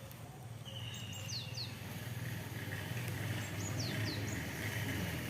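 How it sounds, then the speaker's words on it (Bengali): Several birds chirp and whistle in short bursts outdoors in a village garden with tomato plants and a flowering crape jasmine, faint and distant over steady low background rumble. "কি সুন্দর পাখি ডাকছে।"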